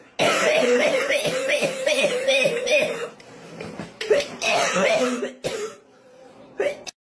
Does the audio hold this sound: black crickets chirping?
no